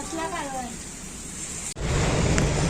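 Heavy rain pours down in Lonavala during a motorcycle outing. A brief voice comes first, then a loud, steady, close hiss of downpour fills the rest.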